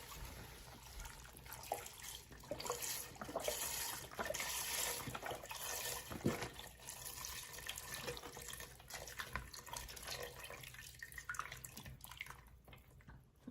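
Vegetable broth streams into a soup pot for a cheesy potato soup, a steady, faint liquid pour and splash that runs unbroken for over ten seconds before tapering off, with no talk.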